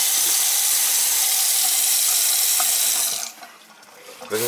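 Water pours steadily from a Delta kitchen faucet into the sink with a loud, constant rushing hiss, then cuts off near the end, leaving a brief quiet with faint handling noise.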